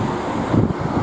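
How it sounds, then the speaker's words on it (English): Steady low rumble of wind buffeting outdoors by a lake, continuous and fairly loud with gusty swells, no voices. "it's actually quite a windy day today"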